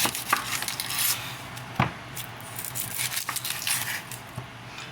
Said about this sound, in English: As you can see, I'm cutting up my onion